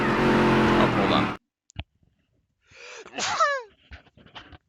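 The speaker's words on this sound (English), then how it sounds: "I didn't want to deafen everybody by sneezing into the mic" A brief sneeze in a race-commentary booth during a dirt modified stock car event, heard after a burst of roaring engine noise that cuts off abruptly, with a few faint clicks before it.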